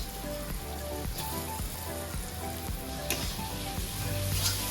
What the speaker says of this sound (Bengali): মশলা আর চিংড়ি মাছটাকে আমি ভালো করে কষিয়ে নিয়েছি